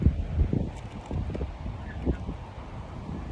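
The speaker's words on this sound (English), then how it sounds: "Fucking wind." Wind blowing outdoors at Rose Park, a low rumbling buffet against the microphone that comes in uneven gusts, fairly loud and with no talk over it.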